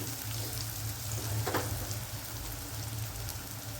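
Onions and tomatoes cook in a pan with a steady, soft sizzle and a low hum underneath, plus one brief scrape or stir partway through; nobody speaks.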